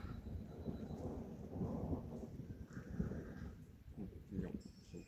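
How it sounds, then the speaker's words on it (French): Thunder rolls during a storm over the Bassin d'Arcachon, a low, fairly soft rumble that swells and fades across several seconds with no voices. "tu prends un coup de tonnerre"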